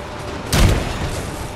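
One loud, booming gunshot in the video game Evil Dead: The Game cracks out over steady background noise, with a brief rumbling tail.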